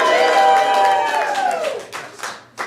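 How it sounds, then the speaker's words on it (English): An improv class audience cheers together in a rising then falling vocal whoop, breaking into scattered clapping toward the end. "Can I hear a cheer?"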